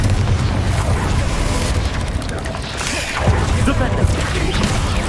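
Loud booming blasts from the Confringo fire spell in the Hogwarts Legacy video game, a dense continuous roar of explosions and crashes with repeated impacts through the whole stretch.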